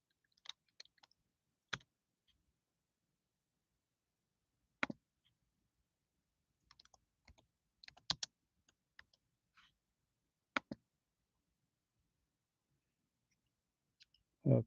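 Sparse, quiet clicks of typing on a computer keyboard: short isolated keystrokes and small bursts separated by long silent gaps, close and alone with no talking.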